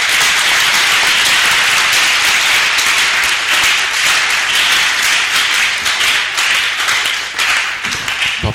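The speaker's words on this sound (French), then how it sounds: "Nous applaudissons le Seigneur pour la vie de notre papa." A church congregation applauds together in thanks at a gathering, dense and loud, a sustained wash of many hands clapping close by that holds steady for the whole stretch.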